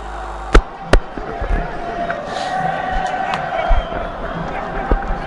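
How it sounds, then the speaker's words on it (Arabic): Football supporters of AS FAR answer the chants of Kawkab Marrakech fans in a packed stadium during a Moroccan league match, a steady crowd roar with sharp claps or bangs near the start and under commentary. "ترد على هتافات"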